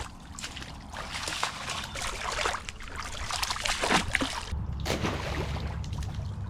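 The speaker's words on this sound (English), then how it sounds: "I'm going to shovel out a little hole here in the water to get my sifter in a little deeper" Shovelling sand and mud out of shallow water in the Ohio River: steady wet scraping and splashing with trickling water throughout, a few sharper splashes near the middle, fairly close and continuous.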